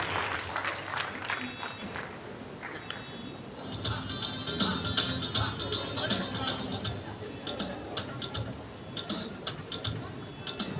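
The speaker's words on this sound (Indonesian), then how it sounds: "Beri tepuk tangan supaya keberanian dia." An audience at a Sabah literature and arts forum applauds a brave participant, steady clapping spread across the hall for about ten seconds, with scattered ticking textures and faint voices underneath.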